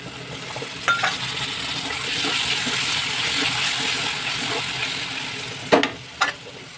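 Tomatoes frying in a pan, giving a steady broadband sizzle with a few sharp utensil clicks and scrapes near the end, close and moderately loud, with no talking.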